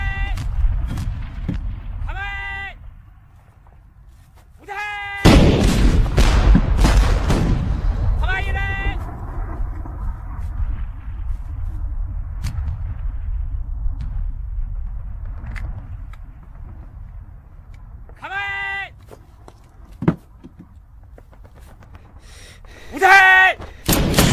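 Rifle shots from an ex-Navy SEAL attempting a long-range sniper shot of about 1.5 miles in the Arizona mountains, heavy sharp reports with rolling echo and sustained rumble, with a voice speaking between bursts.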